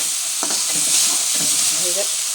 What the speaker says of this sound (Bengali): এখন চিনি অল্প লবণ দিয়ে মশলাটা অল্প ভেজে নেব